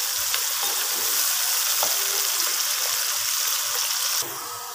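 Onions frying in a pan until brown for a potato and eggplant curry, a steady, dense hiss and sizzle that holds throughout before dropping slightly near the end.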